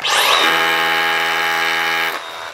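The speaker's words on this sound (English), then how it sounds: "Watch how easy and more quiet this drill is." A power drill whines loudly and steadily for about two seconds, drilling into concrete, then winds down and stops.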